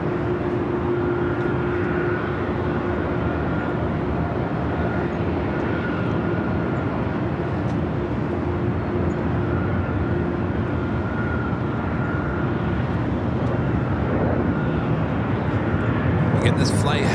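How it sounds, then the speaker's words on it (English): A Delta heavy jet airliner bound for Honolulu takes off from runway 24 left at Los Angeles International Airport, producing a continuous, loud, rumbling jet roar, with talk over it. "Delta 443 heavy, RNF Delray, runway 24 left, clear for takeoff."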